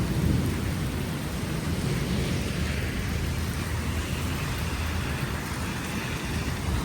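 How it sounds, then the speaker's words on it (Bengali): A heavy downpour with thunder over a residential area in the United States, heard as a loud, continuous roar of rain with a deep low rumble underneath, steady throughout with no voices. "অনেক বৃষ্টি।"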